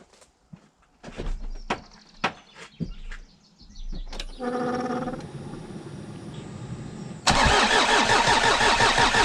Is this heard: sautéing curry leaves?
no